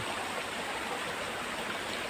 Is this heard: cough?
no